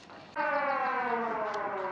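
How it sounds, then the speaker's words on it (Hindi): A steady wailing siren marking the end of suhoor during Ramadan starts abruptly and holds a droning tone, heard at a distance with no talking. "सायरन बज गया जी"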